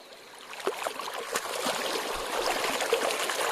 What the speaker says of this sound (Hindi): ये चारों तरफ से पानी जा रहा है